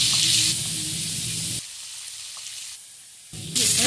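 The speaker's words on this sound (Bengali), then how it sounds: "মাছটা আমি বন্ধুরা খুব বেশি কড়া করে ভাজবো না," Pieces of pond-fresh mrigal fish sizzle in hot oil in a frying pan, with a steady close hiss that dips in loudness partway through and then swells again.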